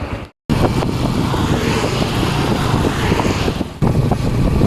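A motorcycle rides along a road, with a loud, steady engine drone and wind rush that drop out briefly near the start and then continue without a break.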